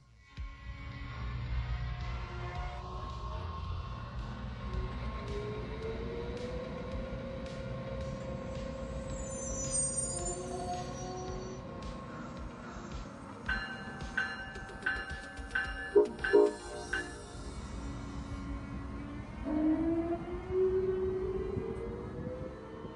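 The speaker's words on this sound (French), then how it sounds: "l'ACS 64 numéro 648 se met en marche, tirant le train 147 hors de New Haven et en direction de Roanoke en Virginie" An Amtrak ACS-64 electric locomotive, number 648, pulls train 147 out of New Haven, a low rolling rumble with rising electric motor whine, squeals and clanks building as it gets under way nearby.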